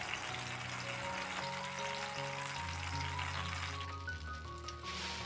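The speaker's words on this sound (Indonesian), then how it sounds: "lanjut aku masukin bumbu yang tadi udah di blender ya" Blended spice paste frying in hot oil after shallots have been sautéed, a continuous crackling sizzle with a wet, bubbling texture, close and steady throughout.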